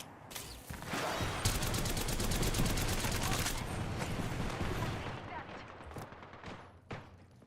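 Gunfire in a shooter video game: a dense, loud stretch of rapid automatic fire runs through most of the clip, with scattered single shots and impacts trailing off toward the end, over game noise and faint voice chatter.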